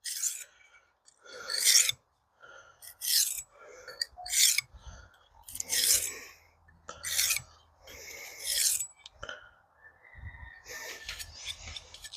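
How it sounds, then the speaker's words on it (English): Knife blade being sharpened against a bandsaw, a run of harsh rasping grinds in irregular bursts separated by short pauses, close and fairly loud with no talking. "I got to sharpen on a bandsaw"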